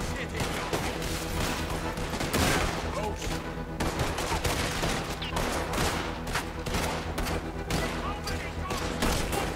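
Rapid gunfire from the Western video game Red Dead Redemption 2, with repeated sharp shots over a dense, continuous game soundtrack and effects.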